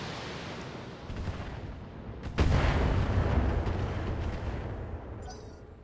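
Artemis artillery barrage striking a Rhino fire support tank in a strategy video game, with rumbling booms building in after a second and a heavy blast at about two and a half seconds, then a sustained loud roar that slowly fades.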